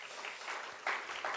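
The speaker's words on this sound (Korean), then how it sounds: "여러분 환영의 박수 한번 하겠습니다." A university chapel audience breaks into welcoming applause, a brief patter of clapping that swells in bursts, heard fairly faint and at a distance.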